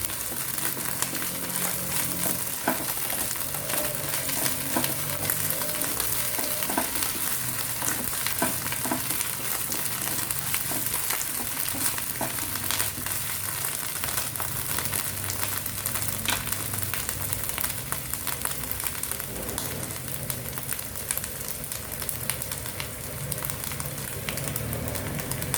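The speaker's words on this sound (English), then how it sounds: "Let us put ginger garlic paste, half a spoon of ginger garlic paste. Saute nicely." Ginger garlic paste sautés in a pan for a chicken keema cutlet, an even, close sizzle running without pause for the whole stretch, with faint stirring and no speech.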